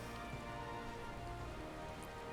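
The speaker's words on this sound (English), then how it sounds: "Pouring with rain, grey clouds." Rain pours steadily in the coastal city of Limsa in the Final Fantasy XIV video game, a dense, even hiss of droplets with faint rumbling underneath and no speech.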